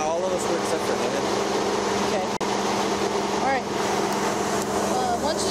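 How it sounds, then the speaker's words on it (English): A steady, loud vehicle engine drone runs throughout, with a brief dropout midway and faint voices mixed into the hum, at a police traffic stop. "my engine's super loud"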